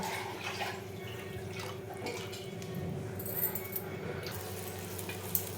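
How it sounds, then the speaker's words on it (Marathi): Kolhapuri red mutton rassa curry boiling hard in a pot, a close, continuous bubbling sizzle with wet popping drips and a few sharper spits toward the end, with no talking. "आता हे थोडंसं टाकायचं आणि एकदम दणकून उकळी येऊ द्यायची"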